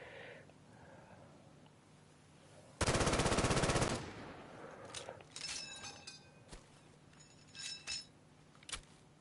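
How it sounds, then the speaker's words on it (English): An MG34 machine gun fires a single rapid burst lasting about a second in the video game Easy Red 2, followed by fainter metallic clinks and handling noises. "So MG34, let's look at this puppy."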